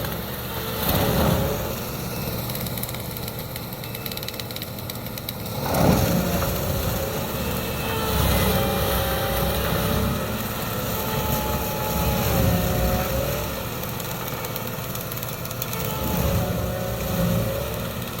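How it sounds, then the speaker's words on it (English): A Case IH MX 120 tractor works hard spreading barley straw for bedding, its engine droning steadily close by, with two louder surges as it labours under load. "Making that tractor snort."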